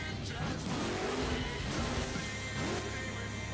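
New CRD 1.0 monster truck engine in BeamNG.drive: a steady, loud engine drone with rising and falling revs, with tire noise and scrapes over a continuous rumble.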